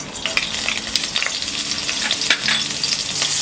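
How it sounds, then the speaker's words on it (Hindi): Green chilies spit and crackle in hot olive oil, a loud, dense sizzle with sharp pops scattered throughout, close and steady for the whole stretch. "तेल गरम हो गया है। अब हम इसमें डालेंगे ये ग्रीन चिलीज"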